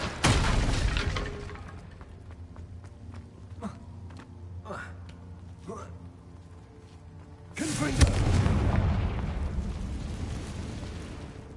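The Incendio fire spell cast in Hogwarts Legacy, a burst of crackling, roaring flame at the start and another loud whooshing blast partway through, with softer magical effects and movement sounds in between.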